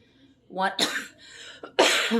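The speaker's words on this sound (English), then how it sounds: "Sorry, cough again." A couple of sharp coughs close to the microphone, separated by a short pause.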